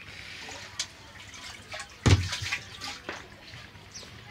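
Water is scooped from a tank with a kamandal vessel during old-style mud work on a mud roof, giving a few splashes and drips with one louder slosh midway, close and otherwise quiet.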